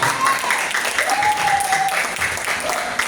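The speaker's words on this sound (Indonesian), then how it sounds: "tepuk tangan dong untuk semuanya" Audience applause at a seminar on building blessed wealth without usury: dense, sustained crowd clapping at close range, with a voice faintly mixed in beneath.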